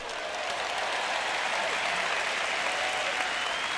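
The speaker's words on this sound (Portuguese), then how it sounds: "eu tenho 3 pessoas batendo palmas para isso" Steady applause fills the whole stretch, a dense even patter of clapping hands with no talking over it.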